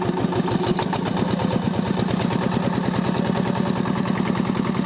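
Tractor engine running steadily while a potato digger lifts garlic from the soil, a loud continuous rhythmic chugging with rapid regular pulses and clattering, close by with no talk.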